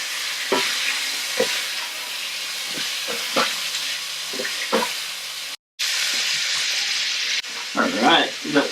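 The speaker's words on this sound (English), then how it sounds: "Got the chorizo starting to caramelize on the bottom of the pan" Chorizo and shrimp frying in a paella pan, a continuous bright sizzle with occasional stirring scrapes and clicks, close and fairly loud, with one brief dropout and a burst of bubbling near the end.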